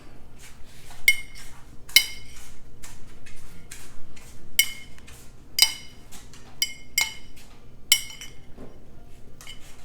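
Cheese, salt and parsley being stirred for a potatoes au gratin crumb topping make a series of sharp, irregular clinks and taps of a utensil against a bowl, close by and fairly crisp, with no talking heard.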